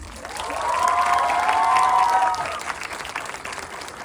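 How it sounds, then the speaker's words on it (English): Audience applause after a dance performance at a stage play, a swell of clapping with some cheering and shouts that rises, peaks, and tapers over a few seconds. "can we get a big round of applause for Vidhi and Akhil's dance moves?"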